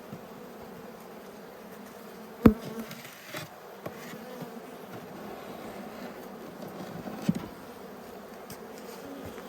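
Honey bees buzz steadily during a late-winter hive inspection in an Australian apiary, a dense close hum running throughout, broken by two sharp knocks from handling the hive boxes. No one speaks.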